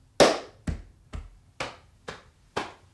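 Six crisp hand claps, close and clear, spell out a rhythm of six plus two beats with a strong opening accent and a later accent marking the final pair, alone without talk.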